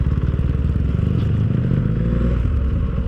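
Traffic on a road while overtaking an e-bike, a steady close engine rumble with light rattling and scraping, continuous and fairly loud for the whole stretch.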